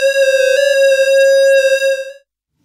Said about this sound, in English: So we're currently sampling and holding the noise generator.